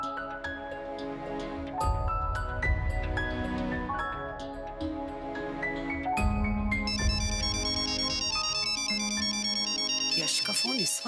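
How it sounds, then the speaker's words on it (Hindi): An incoming call rings on a phone, a loud melodic ringtone that steps through repeated tonal phrases against a backing beat. It plays for about ten seconds and cuts off abruptly at the end. "यश का फोन इस वक्त।"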